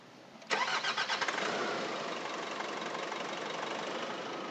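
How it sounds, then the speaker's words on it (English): A Nissan Navara with a YD25 diesel engine cranks with a rapid chug of a few strokes, catches loudly, and settles into a steady, rough idle that continues close by, with no talk. "we're just going to start the car"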